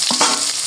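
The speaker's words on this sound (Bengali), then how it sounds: "এখন আলুগুলো আগে দিয়ে নিই, সবজির সাথে হবে না তো, আলু একটু ভেজে নিই" Potato pieces fry in hot oil in a wok, a steady close sizzle with a couple of stirring scrapes near the start, loud and unbroken, with no voices.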